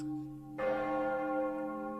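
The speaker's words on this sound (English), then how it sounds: "We gotta chime them bells for him again." A bell chime sound effect, a ringing church-style bell struck once with a bright metallic onset and a sustained, humming decay.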